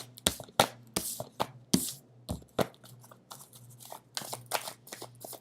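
Crisp riffling bursts of cards being shuffled and handled, coming in quick irregular flurries with brief gaps between them, close by.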